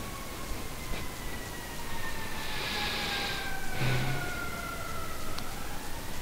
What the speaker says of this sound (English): And you hear the siren.